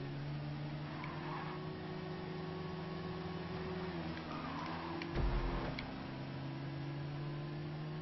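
A car in Grand Theft Auto Online skids and nearly crashes during a race, heard as a quiet engine drone with a sudden lurching scrape and thump about two-thirds through before the hum settles again.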